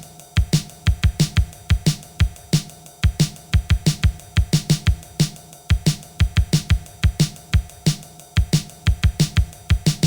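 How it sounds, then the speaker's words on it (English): Simple new wave post-punk drum beat programmed in FL Studio, with a steady ride cymbal playing constantly over repeating kick and snare hits in an even, looping rhythm, loud and alone. "It's going to be a very constant ride that plays throughout the beat"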